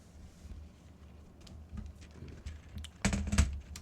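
Computer keyboard typing nearby, a sparse run of soft key taps that turns into a louder, denser burst of clicking near the end.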